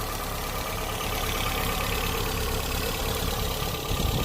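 A 1998 Citroën Saxo 1.6 VTR with its TU engine runs steadily at idle, heard up close under the open bonnet, a constant dense mechanical hum with no talking.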